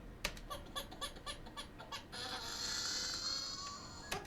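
An unprocessed baby's scream, recorded as raw source material for a bat creature effect in the Alan Wake video game: a run of rapid, rhythmic high-pitched vocal bursts, then a sustained shrill, noisy wail that fades, and one final sharp cry.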